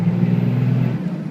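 A 2001 Dodge Ram 2500 2nd-gen Cummins diesel pickup with a 6-speed under acceleration, a steady, loud low engine drone throughout the short stretch with no voices.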